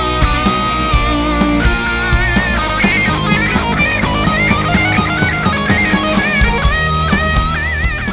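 Electric guitar playing a lick in a rock guitarist's style, a fast run of picked melodic notes over a dense, loud full-band backing, with steady rhythmic accents throughout.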